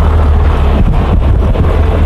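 Strong wind gusts batter an outdoor microphone on a safari drive, giving a continuous loud low rumble and buffeting throughout with no other clear sounds.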